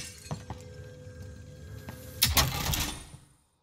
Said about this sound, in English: The problem with smashing through the windows is like people can really hear that from quite a distance